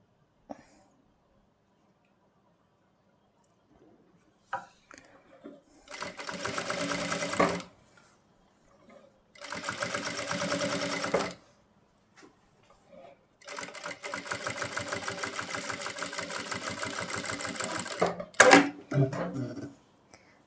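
Sewing machine stitching the neckline of a kurta, running in three sustained bursts separated by short pauses, close and steady, with a few faint handling clicks in between.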